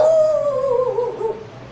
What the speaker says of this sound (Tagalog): So may maingay na aso, labas tayo.